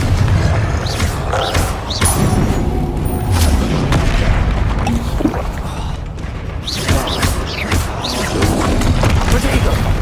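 Confringo fire spell explosions in the video game Hogwarts Legacy, a dense stretch of booming blasts and thuds over game effects and music, with a voice speaking over the combat.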